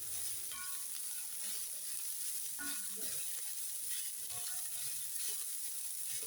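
Food sizzles and fries steadily in a pan while being stirred, with occasional scraping and clinking of the spoon against the pan over the constant hiss.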